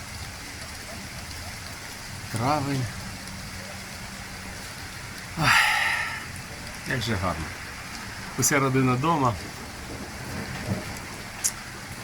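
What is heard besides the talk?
rain falling outside during evening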